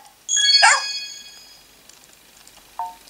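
A cartoonish virtual Great Dane puppy in Nintendogs + Cats gives one bright, close yappy bark, then quiet, then a short high yip near the end.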